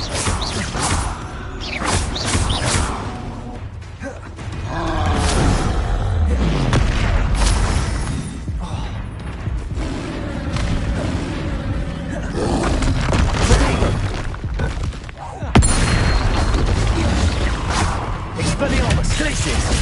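Confringo blasting spells erupt in repeated booming explosions with whooshes during a Hogwarts Legacy combat sequence, loud and dense, with occasional voices under the blasts.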